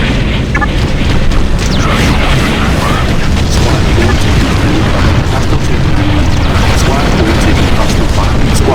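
Explosions and booming blasts from the real-time strategy game Ground Control as an enemy structure is destroyed, a dense, loud, continuous rumble of detonations and battle noise filling the whole stretch without pause.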